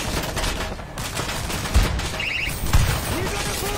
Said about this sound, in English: Auto turret running.